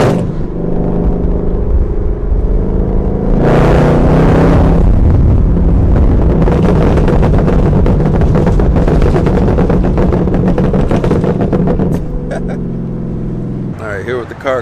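A very loud supercharged 2022 Chevrolet Camaro ZL1 exhaust roars and revs hard, with crackling, rumbling bursts rising and falling close by, before settling near the end.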